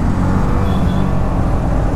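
Steady road traffic heard from a Yamaha MT15 motorcycle in busy city traffic, with a continuous broadband roar of engines and wind close by, a faint brake squeal midway and no talking.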